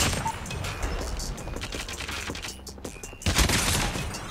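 Rapid gunfire in Call of Duty Mobile, dense crackling bursts running nearly continuously, with a brief lull before a louder burst near the end.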